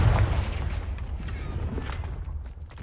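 A Confringo fire spell from Hogwarts Legacy erupts as a heavy, booming blast at the start, then fades into a rumbling, crackling tail with no talking.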